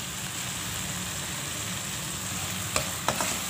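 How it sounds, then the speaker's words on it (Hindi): Spices being stirred into cooked tomato masala for soya chaap curry give a steady close frying sizzle, with a couple of sharp utensil taps near the end. "अभी हम इसमें मसाले डालेंगे जो हमने निकाले थे, अच्छे से मिक्स कर देना है इनको।"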